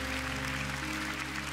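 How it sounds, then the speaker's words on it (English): Applause from a church congregation honoring its leaders, a steady dense clapping that fills the whole moment at moderate level with no talk over it. "So why don't we just give all our leaders a big clap"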